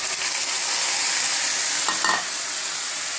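Chicken and whole spices including cinnamon, bay leaf, cardamom and cumin sizzle steadily in a hot pan, with a couple of brief stirring scrapes near the end; close, continuous and unvoiced.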